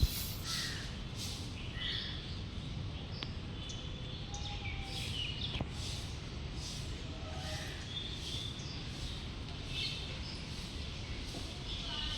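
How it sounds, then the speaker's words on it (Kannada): Crows caw repeatedly in short, harsh bursts outdoors around a freshly swept and watered yard, with a few fainter bird chirps and a steady background hum throughout. "ಪಕ್ಷಿದು ಸೌಂಡ್ಸ್ ಎಲ್ಲ ಹೇಗೆ ಕೇಳಿಸತ್ತೆ ಕೇಳಿಸ್ಕೊಂಡು ಬನ್ನಿ"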